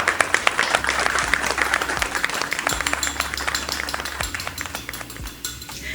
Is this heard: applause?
yes